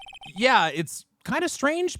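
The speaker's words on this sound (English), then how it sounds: "I heard a phone ring just now." A quick run of electronic ringtone pulses from Phoenix Wright: Ace Attorney chirps briefly at the start, then a voice talks over the rest.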